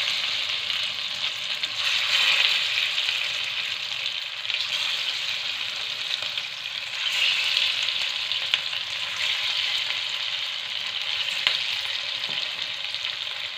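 Pieces of pea-flour dough fry in hot oil in a pan, a steady bright sizzle with a crackling hiss that runs without a break, close and fairly loud.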